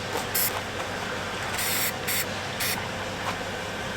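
Short bursts of aerosol spray paint hiss onto the barrel assembly of an E-11 blaster replica, several quick close spurts with brief pauses between thin coats, no talking.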